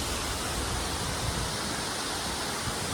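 Water pours at Aruvikuzhi waterfall in a dense, constant roar, loud and close, with no voices.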